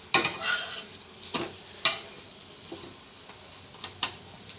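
Sweet paratha frying in oil, with a soft continuous sizzle broken by several sharp scraping and clinking strokes of a spatula against the pan.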